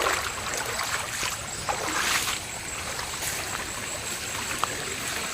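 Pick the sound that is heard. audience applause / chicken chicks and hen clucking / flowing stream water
flowing stream water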